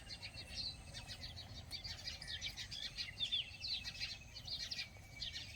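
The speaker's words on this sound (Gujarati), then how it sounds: "આ બાવળા ઉપર ઘણા બધા પક્ષીઓ બેઠા છે ને જો અવાજ કરે." A flock of birds perched in a babool tree on a quiet farm, chirping and calling continuously in overlapping bright tweets over a low, steady outdoor hum.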